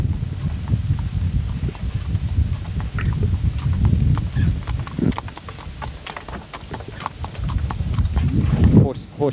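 Horse hooves clop at a steady walking rhythm, sharp close knocks with a low rumble beneath, passing through the West End streets of Fremantle, Western Australia, while a voice talks over them.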